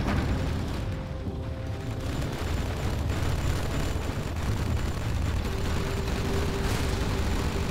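In Command & Conquer Generals Zero Hour, a nuclear missile explosion gives a sustained, loud, broadband roar and rumble that holds steady throughout, with faint tonal layers underneath.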